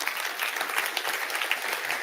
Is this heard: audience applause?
yes